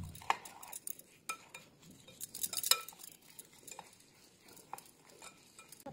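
Rice bran oil and sweetener being stirred together in a big bowl for a mango cake batter, giving soft scraping and clinking of a utensil against the bowl in irregular bursts, fairly quiet and close.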